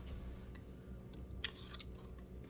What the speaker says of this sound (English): I'm gonna take a little bite.